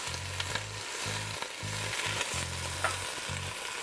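Garlic, chili flakes and fresh basil frying in a pan for steamed clams, a loud continuous sizzle with rhythmic scraping stirs, close and with no talking.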